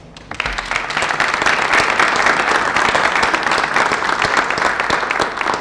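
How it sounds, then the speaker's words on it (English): An audience at a panel discussion on public employee benefits applauds the panelists, clapping that swells quickly after a brief thump and holds steady, fairly loud and continuous. "How about a round of applause?"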